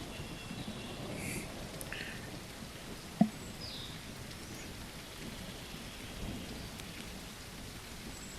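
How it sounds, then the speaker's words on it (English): Rain and thunder in the video game Bigfoot Life, with a continuous rain wash, a low rumble of thunder and one sharp crack partway through, and no talking. "It's starting to rain."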